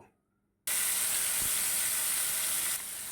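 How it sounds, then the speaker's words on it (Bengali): Paneer pieces fry in leftover oil in a pan, giving a sudden loud, steady sizzling hiss that bursts in after a quiet moment and carries on evenly, easing slightly near the end. "বেঁচে যাওয়া তেলের মধ্যে পনিরগুলা ভেজে নেব।"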